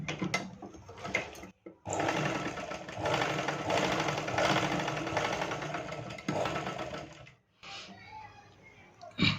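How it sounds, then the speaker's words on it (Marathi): A sewing machine stitches a blouse in a steady whirring run of about six seconds, with short bursts of stitching before and after and brief pauses between them, and a voice faintly heard. "आणि 4 इंचावर इकडे पण तशाच प्रकारे डाच मारून घ्यायचा."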